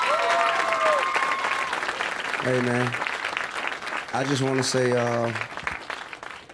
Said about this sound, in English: can we give T.I. a round of applause